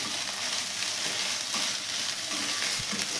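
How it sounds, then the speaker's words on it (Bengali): Ginger and garlic paste fries in hot oil with a dense, steady hiss and occasional soft stirring scrapes, close and unbroken. "আদা রসুনের কাঁচা গন্ধটা যাওয়া পর্যন্ত এটাকে একটু কষে নেব"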